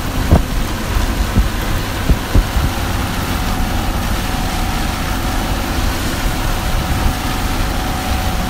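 Heavy rain falling over the Gharbia region, a dense, steady rushing hiss that fills the whole clip, with a few soft thumps near the start and no voices.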